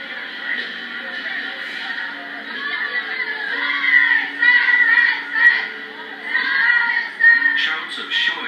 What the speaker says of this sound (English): Shouts of shoi rise from groups of Dai people.